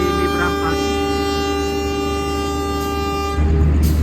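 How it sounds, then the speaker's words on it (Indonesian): The Blambangan Express, an Indonesian passenger train, pulls away with a long, sustained horn blast over the rumble of the cars. The horn sounds loud and close, and the rumble swells near the end. "kereta api Blambangan Express yang saya naiki melanjutkan perjalanan ke arah Ketapang Banyuwangi"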